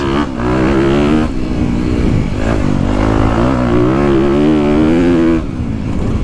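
A KTM 250 Factory Edition dirt bike with race fuel and an aftermarket pipe, its engine loud and close, holding a strong, buzzing rev with rising and falling pitch throughout, briefly easing off at the end.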